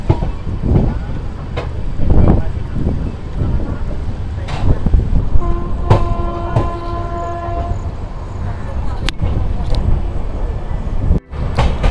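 A passenger train rumbles heavily along the rails while slowing through a big curve near a rural halt, loud and continuous with clanks and a brief horn-like tone midway.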